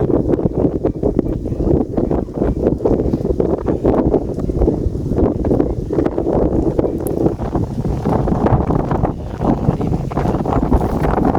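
Wind buffets a boat and its microphone in strong, continuous gusts, a close rumbling roar with rustling bursts and no break throughout.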